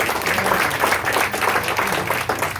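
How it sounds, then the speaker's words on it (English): An audience at a concert applauds loudly, a dense, even roar of many hands clapping with no pauses, close and full throughout. "So definitely give yourself a round of applause."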